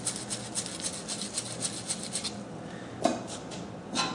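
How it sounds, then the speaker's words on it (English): Sandcloth rubbed by hand over the end of a copper pipe, a close, quiet, steady rasping scrape in repeated short strokes, with a sharper scuff near the end. "I'm going to sand the end of this."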